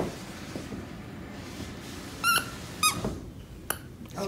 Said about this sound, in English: Squeaky toys.